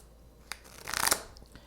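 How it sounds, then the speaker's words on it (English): A quick flutter of tarot cards being shuffled, papery riffling that builds to a brisk burst then trails off, close and fairly quiet. "I just want to give a quick shuffle to my cards."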